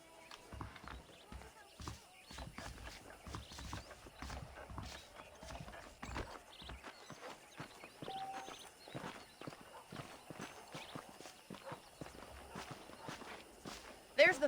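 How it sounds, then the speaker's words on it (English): Horse hooves clip-clop in steady walking rhythm in the Red Dead Redemption western game, moderately close and fairly quiet, with occasional snorts and speech over the hoofbeats. "The horses are saddled up over here."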